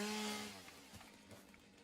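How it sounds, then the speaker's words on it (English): In the video game Satisfactory, a chainsaw roars loudly as it starts cutting and then fades into a steadier, quieter grinding buzz through wood, with no talking. "I don't know if it's better to use a chainsaw."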